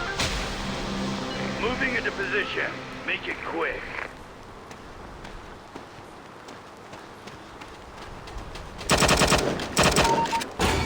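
Mobile shooter game played on an iPhone 13 fires rapid bursts of gunfire, with scattered shots and footsteps through the middle and a dense, loud volley near the end, while a voice talks early on.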